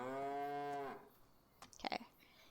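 Cattle lowing in the Farming Simulator 25 video game: one long, loud, drawn-out moo followed by a few brief, softer animal noises, with no talk over it.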